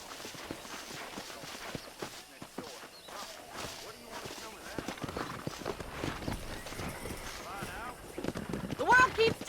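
Horse hooves clip-clop in a steady walking rhythm across open ground in Red Dead Redemption, near and moderately loud, with low ambient game sound around them and a brief whinny-like cry near the end.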